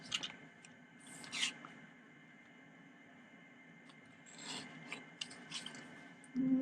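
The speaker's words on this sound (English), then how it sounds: "And then I get my trimmer." A handheld paper trimmer slices cardstock for a matchbook party favor, giving a few short, soft rasping strokes at close range in a quiet room, with a louder rub near the end.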